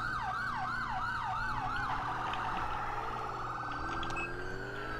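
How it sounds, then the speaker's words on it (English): A police siren wails in GTA IV, sweeping up and down in fast repeating cycles over a low engine hum, loud and close. "I'm gonna turn off my sirens since we have three cops here"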